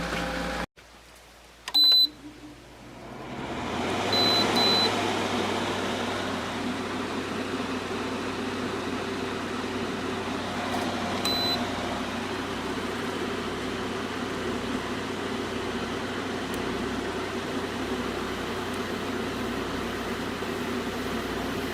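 GE 12,400 BTU window air conditioner running with a steady, even fan and compressor hum after a brief click and a short beep near the start.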